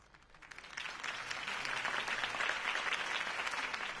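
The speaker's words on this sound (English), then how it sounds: "could have heard that applause" A crowd in a video game breaks into applause that swells from quiet to a full, steady clapping, sustained to the end.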